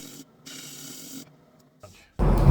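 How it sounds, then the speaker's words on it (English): A Robert Sorby bowl scraper smoothing a silver maple bowl on the lathe gives soft scraping passes with short pauses between, ending in a louder, rougher burst of cutting. "I switched over to a Robert Sorby bowl scraper to kind of clean up some of the tool marks"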